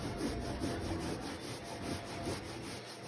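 A microfiber pad scrubs at a red stain on a surface in a professional cleaning job, making faint rhythmic rubbing strokes close by with no talk.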